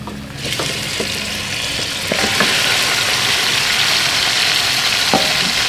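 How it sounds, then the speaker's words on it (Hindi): Mutton is added to golden brown onions in a pot for a large batch of pulao, and the frying swells into a loud, steady sizzle, with a few clanks of utensils and no voices. "और इस मटन को प्याज के साथ अच्छी तरह से भून लेंगे"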